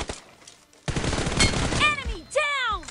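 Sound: gunfire from PUBG Mobile, a video game

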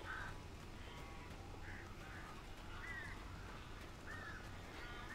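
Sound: crows cawing in video game Alan Wake Remastered

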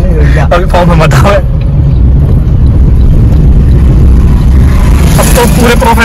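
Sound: car being driven by a learner driver

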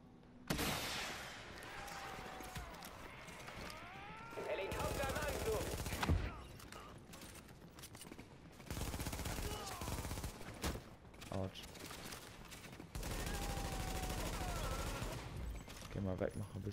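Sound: gunfire from a video game

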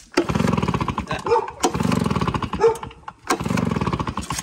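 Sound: pull-start small engine starting and stalling

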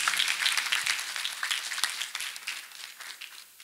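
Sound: church congregation clapping

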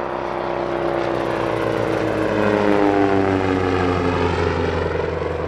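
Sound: Percival Provost T1 military training aircraft, propeller engine

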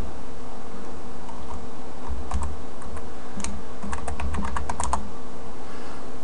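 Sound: typing a password on a computer keyboard

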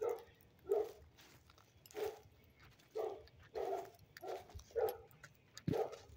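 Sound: dogs barking in the background

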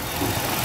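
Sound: 2006 Chrysler 300 3.5 liter V6 engine idling

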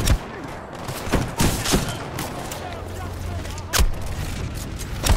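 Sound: gunfire in video game Titanfall 2

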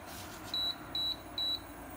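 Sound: Iris Ohyama induction cooktop beeping at button press

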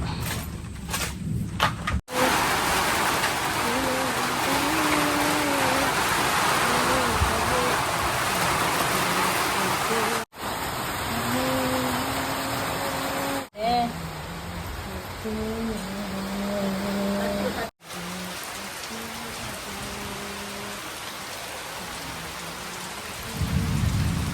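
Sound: heavy rain outside

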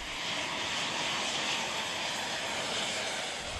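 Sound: Zapata Flyboard Air kerosene turbo engines

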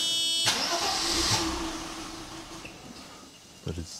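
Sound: 1980s Mercedes engine firing but not catching

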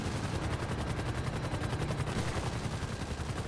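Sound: pistol gunshots in GTA 5 video game

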